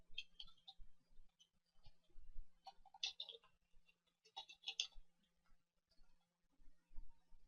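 Typing on a computer keyboard during an email account setup: soft, quiet key clicks in irregular bursts with short pauses, close by, over faint room hum and with no voice.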